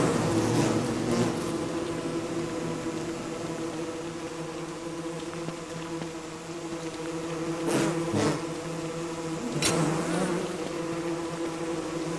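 Bees drone in a video game world, a steady layered electronic-sounding buzz that swells louder in a few brief bursts near the end, with no talking.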